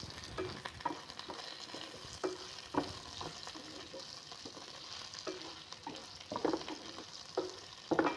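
Radish sautéing in a pan, a quiet steady sizzle broken by soft scraping stirs at irregular intervals.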